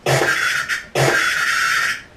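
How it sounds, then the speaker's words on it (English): Two harsh, distorted screeching bursts, each about a second long, with a gritty noisy texture like a processed seagull cry. "So that like weird seagull screech is this data sample."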